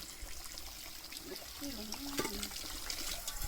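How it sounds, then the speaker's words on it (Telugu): Water trickles and pours into a pot for boiling wild pigeon peas, a faint, uneven stream with a soft rising gurgle midway and a voice murmuring in the background. "సగం వాటర్ అయితే పడుతున్నాను ఇక్కడ."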